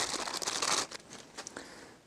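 Plastic bag around a T47 bottom bracket being opened, giving a burst of close crinkling and crumpling that fades into lighter, scattered rustles.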